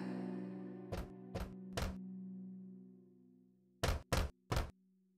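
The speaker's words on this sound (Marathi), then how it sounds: "दरवाजावर टकटक करू लागला" Someone knocks on a door: three sharp thunks, a pause, then three more in a quicker burst, each solid and close, over a faint fading musical tone.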